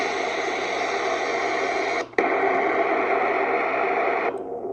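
Vintage amateur radio receiver tuned to the 40 m band with a narrow 500-cycle filter, giving a steady hiss of band noise with a brief dropout midway before the hiss returns, then thins near the end.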